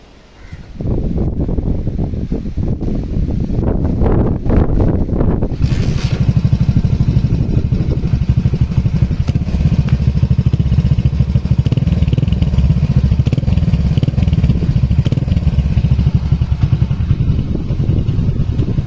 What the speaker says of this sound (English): It's a wonderful silencer from Chopson, and I still cannot believe I can get the old model beat